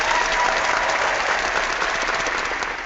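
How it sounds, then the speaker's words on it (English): Studio audience clapping at a live cooking show, a steady close wash of applause that fades slightly at the end. "Do we get an applause?"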